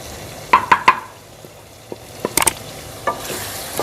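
Spices and mashed tomatoes are stirred and fried in a karahi for Afghani potato curry, with a burst of spoon scrapes and clanks against the pan, quieter taps, then another cluster of metallic scraping.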